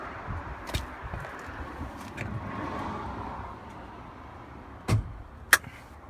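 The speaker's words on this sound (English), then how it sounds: "I'll quickly pop the back of that open so you guys can have a look at the engine." The rear engine cover of a matte black Ferrari 458 Spider is released, with quiet shuffling handling noise followed by a soft thud and then a single sharp latch click near the end.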